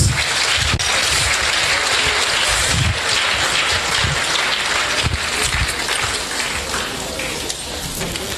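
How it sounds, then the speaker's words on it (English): Audience applause after a university inaugural lecture, dense sustained clapping from a large crowd, loud and continuous, slowly easing toward the end. "Please, another big round of applause."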